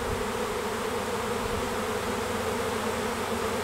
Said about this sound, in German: bis alle diese Bienen da an die Schwarmtraube hangen